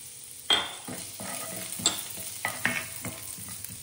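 Finely chopped ginger and garlic frying in oil in a pan, sizzling steadily while a spatula stirs with sharp scrapes and knocks, close up.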